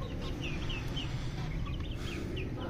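A white hen about a year and a half old clucking in a backyard, a series of soft short clucks repeating irregularly over steady outdoor background noise.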